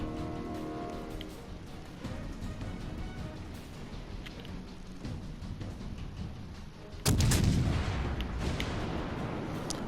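Heavy battleship guns of the USS Tennessee boom in World of Warships Legends, one loud close salvo bursting out near the end over a steady wash of rain-like battle noise.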